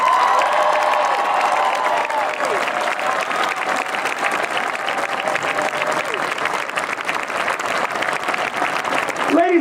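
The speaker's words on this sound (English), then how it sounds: "Ladies and gentlemen, let's keep this applause going." A large crowd at an Upper Moreland High School event claps and cheers loudly and continuously for the marching band and alumni, a dense roar of applause with shouts and whistles mixed in.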